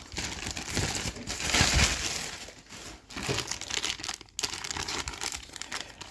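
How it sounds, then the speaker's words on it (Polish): Crinkling plastic packaging as a Pokémon card mystery pack is torn open, with continuous rustling and crackling of moderate loudness and short pauses throughout, no talking. "Otwieramy. Zobaczymy co znajduje się w środku."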